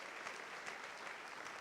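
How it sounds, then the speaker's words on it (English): A conference audience gives a round of applause for a committee chair, a steady wash of many hands clapping at moderate distance, fairly quiet and uninterrupted. "Please, a round of applause for Theodora."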